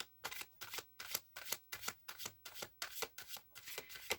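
Tarot cards riffled and shuffled at close range, about a dozen quick crisp bursts in a fast even rhythm, clear and dry with no voices.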